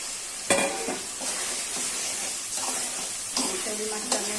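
Snakehead fish pieces fry in a spice paste while being stirred in a pan, a steady loud sizzle broken by scraping strokes of the spatula every second or so.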